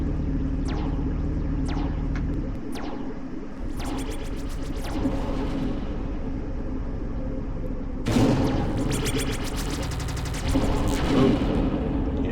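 Gunfire in the video game Rivits comes in bursts of sharp rapid shots mixed with heavier blasts over a steady rumbling game soundtrack, loudest toward the end.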